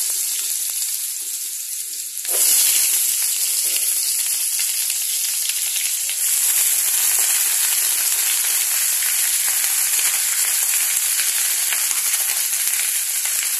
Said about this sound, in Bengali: চেরা লঙ্কা দিয়েই যেহেতু এটা ছিটবে, সেজন্য আমি এখানে আলুগুলো আর বাকি সবজিগুলো ছেড়ে দেবো একসাথে